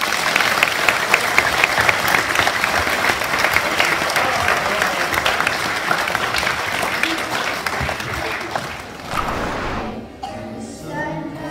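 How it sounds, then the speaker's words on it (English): Audience at a school harvest assembly breaks into sustained applause, loud and dense for about nine seconds before thinning out, with a few voices in the crowd near the end. "Give them a round of applause."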